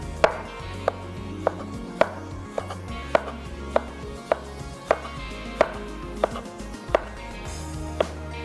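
Tomatoes are sliced thin with a blunt kitchen knife on a board, making a regular series of about a dozen sharp, close knocks spaced roughly half a second apart.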